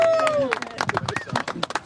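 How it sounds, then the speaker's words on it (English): Wedding guests at Loch Lomond break into a round of applause, a dense burst of clapping and cheering voices that stays loud and steady throughout, with a whistle at the start and chatter mixed in. "A round of applause."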